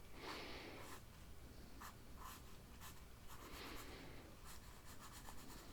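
A pen scratching out the curved sails of the Sydney Opera House on a harbour map, quiet close strokes in short repeated bursts with soft breathy pauses between them.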